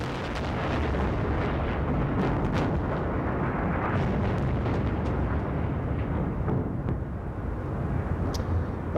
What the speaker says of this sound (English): this latest U.S. airstrike against a target in Baghdad